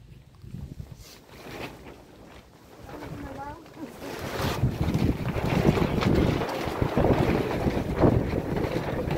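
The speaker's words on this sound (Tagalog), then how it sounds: "Lakas ng hangin." Strong wind gusts roar across an outdoor spot by the water, rising from moderate buffeting to a loud, sustained blast in the second half, with speech mixed in under the noise.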